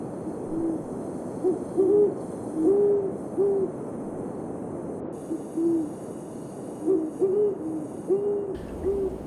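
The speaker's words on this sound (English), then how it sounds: "I was awakened by a captivating duo from a pair of great horned owls." A pair of great horned owls hoot back and forth at night in Collingwood, deep soft calls repeating in an uneven rhythm of short phrases, moderately close against a quiet background.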